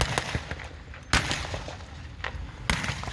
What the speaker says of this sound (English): Infantry moving forward, doing a bit of fire and movement